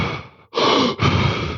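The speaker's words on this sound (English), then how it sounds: "one round is 30 breaths, 30 deep, quick breaths" Deep, quick breaths of a Wim Hof breathing round: a softer exhale, a brief pause, then two loud, close, forceful breaths in quick succession with no talking.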